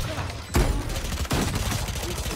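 Gunfire in the shooter game Valorant, a couple of loud bursts of shots standing out from a dense, busy game background.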